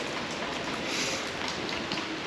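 Rain falls steadily on a Bucharest street, a dense, even wash of patter and hiss that holds at a constant moderate level throughout, with no voices.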